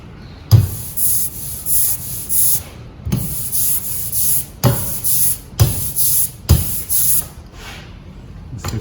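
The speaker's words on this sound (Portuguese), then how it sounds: "Aqui um pequeno ruído aqui no rolinho." An ink roller rolling back and forth over a polystyrene printing matrix during inking, producing repeated loud rubbing, sticky rasping passes separated by brief pauses, close up and with no voices.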